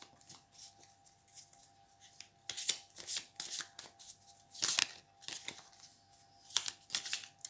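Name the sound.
tarot cards being shuffled and drawn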